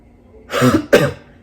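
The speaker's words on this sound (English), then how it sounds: "Now I'm starting to get out of breath and starting to cough again." Two harsh coughs in quick succession, close and fairly loud, with quiet room tone before and after.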